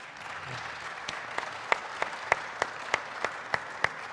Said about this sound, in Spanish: Así que primero un aplauso.